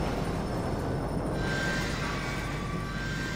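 A loud, steady rumble of a London Underground train passing in GTA 5 roars continuously, with a thin high whine rising partway through.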